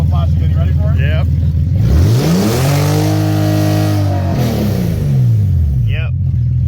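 A Porsche engine revs up sharply from idle, holds a high wavering pitch for a couple of seconds, then falls back, close and loud, with people talking briefly before and after.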